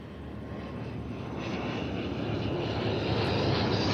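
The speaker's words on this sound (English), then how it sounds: "Another ATR 76 service now coming in." An ATR turboprop airliner arriving at Christchurch Airport gives a broad engine roar that grows steadily louder as it approaches.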